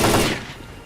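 A brief burst of gunfire in S.T.A.L.K.E.R.: Call of Pripyat, one loud report that quickly decays into a fading tail.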